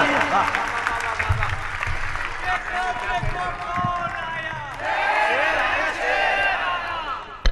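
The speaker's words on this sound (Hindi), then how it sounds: "जोरदार तालियों से इस्तकबाल करें," Loud, steady crowd applause at a mushaira poetry gathering in Mahul, Azamgarh, mixed with shouting voices and cheers throughout, rising again near the end.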